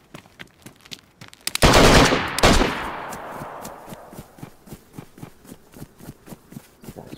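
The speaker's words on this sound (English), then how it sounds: "You're running through the gunfire." Automatic gunfire in the DayZ video game, with faint ticking shots at first, then a sudden loud close burst that echoes and decays, followed by steady rhythmic footsteps or shots that continue at lower volume.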